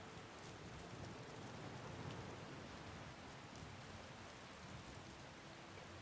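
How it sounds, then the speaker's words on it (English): Steady, faint rain hiss fills the modded Skyrim Special Edition game world, a constant wash of falling rain with no breaks and no voices. "God damn, the rain effects in this mod pack"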